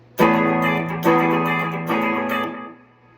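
Three loud strummed electric guitar chords with strings left ringing, each one sustaining with a buzzy wash before fading out; no voices.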